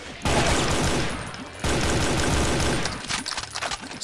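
Heavy gunfire blasts from a shotgun in Brutal Doom II, two long dense bursts of loud game combat noise with sharp reports, one after the other, then trailing crackles.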